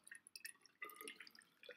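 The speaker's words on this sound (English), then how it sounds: "I'm using a measuring cylinder to measure my water" Distilled water poured into a measuring cylinder: soft, irregular trickling and dripping, faint and close, with no voices.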